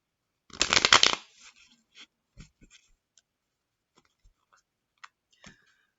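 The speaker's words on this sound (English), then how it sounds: "From just the way these cards are shuffling" A quick riffle of tarot cards being shuffled, a dense burst of papery flutter, followed by scattered soft taps and clicks as the deck settles.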